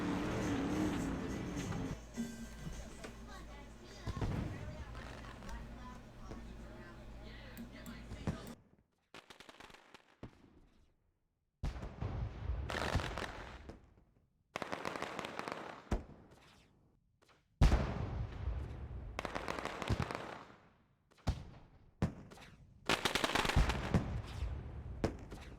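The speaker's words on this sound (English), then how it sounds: "Fireworks going off in the background here at the USA International Speedway, Lakeland, Florida here tonight." Fireworks bursting at USA International Speedway in Lakeland, Florida, at night: a dense roar of blasts gives way to irregular bursts of sharp bangs and crackles separated by short silences, loud and close.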